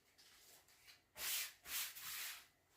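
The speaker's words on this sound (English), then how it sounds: "So I'm going to fuzz it so it won't be as sticky." A brand new stencil being rubbed against a surface to fuzz it, two close, loud brushing scrapes after a quiet start, each rising and fading.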